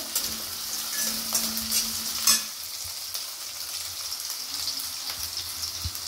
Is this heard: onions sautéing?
yes